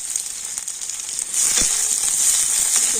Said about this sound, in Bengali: আর এখন আমি তেলের উপর দিয়ে দেবো গোটা জিরে আর দিয়ে দিচ্ছি পেঁয়াজ দিয়ে দেবো দুটো কাঁচা লঙ্কা